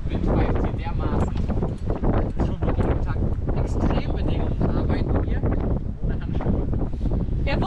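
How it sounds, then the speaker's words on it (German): Strong winter wind near the North Cape buffets the microphone with a constant loud roar while a person talks over it close by. "Ich hoffe, ihr hört uns auf der Wind pfeift hier dermaßen."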